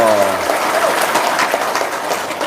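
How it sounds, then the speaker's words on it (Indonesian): Applause from an audience at an Indonesian sales seminar, dense broadband clapping that runs steadily throughout, with a voice heard briefly at the start. "Tepuk tangan dong"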